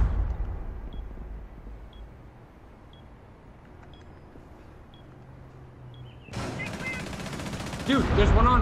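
Gunfire in a shooter game: a quiet stretch with faint clicks and low rumble, then loud rapid bursts of shots erupting near the end, dense and sharp.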